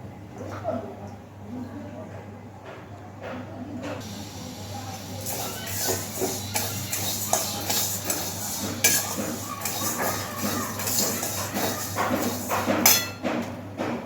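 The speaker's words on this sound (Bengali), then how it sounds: "এবার ডালটাকে শুকনো কড়াইতে খুব সুন্দর করে ভেজে নেব।" Dry lentils rattle and scrape against a dry metal pan as they are roasted and stirred, a busy, continuous clatter with occasional sharper clinks, close up.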